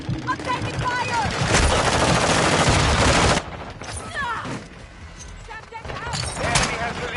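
Rapid gunfire bursts in a Call of Duty Modern Warfare 2 Kill Confirmed multiplayer match, loud and dense for several seconds, then quieter scattered shots under game announcer voice lines.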